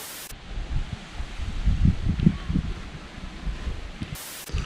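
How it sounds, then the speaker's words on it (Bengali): Strong wind gusting across an open rural road on a stormy day, a steady broadband roar that swells and surges throughout, with brief sharper buffets at the start and end. "কি বাতাস"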